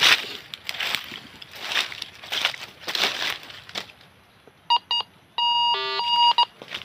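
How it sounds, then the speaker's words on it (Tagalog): A cellphone beeping near a tunnel entrance in a forest, several short electronic tones in a quick broken pattern with one longer held beep, following rustling and crunching handling noises. "Tumutunog siya sa cellphone guys."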